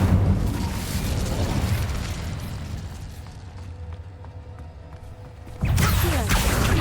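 An Incendio fire spell blasts in Hogwarts Legacy: a loud, booming burst that fades into a lower rumble, followed by a second sudden, forceful blast near the end.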